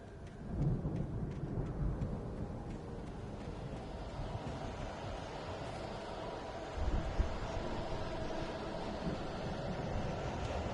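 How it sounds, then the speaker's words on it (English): A storm rages in the video game Alan Wake Remastered, with a continuous wash of heavy rain and low rolling thunder rumbling through, swelling briefly near the start and again midway. "The storm raged on"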